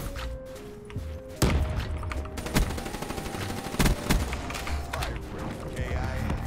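Rapid automatic gunfire in the video game Black Ops 3 arrives in loud bursts and single shots over busy game sound and music, with a player talking at times.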